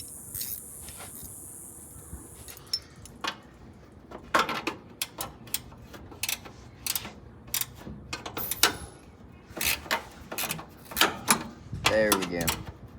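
Metal fittings clank and a wrench scrapes on brake line fittings in the engine bay of a 1962 Ford Falcon, close irregular clicks and knocks that come faster toward the end.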